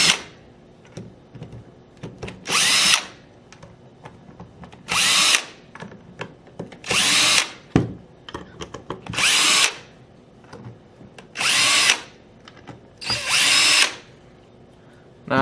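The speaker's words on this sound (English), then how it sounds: "we're going to go ahead and start off by removing these tank adapter bolts and your receiver bolts" A power tool drives out the tank adapter and receiver bolts on an Alpha Black paintball marker, whirring in six loud, separate bursts of about a second each, with quiet clicks and handling noise between them and no talking.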